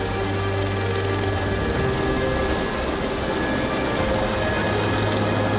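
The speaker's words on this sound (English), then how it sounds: "Plane touches down. Tires smoke as the pilot brakes hard, but the landing gear holds." A plane's engine roar holds steady and loud through a hard emergency landing, a broad continuous rumble with a low droning hum underneath as it brakes on the runway.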